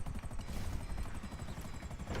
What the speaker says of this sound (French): Oh l'hélico il a pris feu.